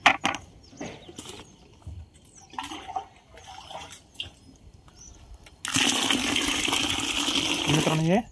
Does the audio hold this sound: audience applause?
no